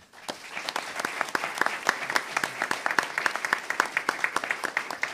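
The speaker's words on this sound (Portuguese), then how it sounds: "Uma salva de palmas para ela." Steady applause from a small crowd at a formal medal ceremony, hands clapping in a quick, even rhythm throughout, moderately close and sustained.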